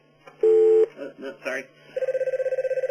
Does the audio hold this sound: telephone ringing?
yes